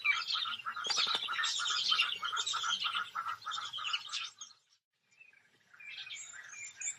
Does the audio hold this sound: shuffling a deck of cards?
no